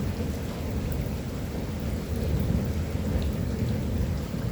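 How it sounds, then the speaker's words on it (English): Thunderstorm with steady heavy rain and deep rolling thunder, a continuous dense wash of downpour with low rumbles underneath throughout, close and fairly loud. "I got what I asked for, that rain."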